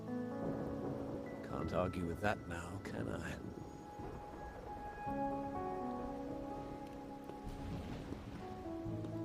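Rain falling on a rainy night in the video game Wuthering Waves, a soft steady patter heard quietly beneath characters talking.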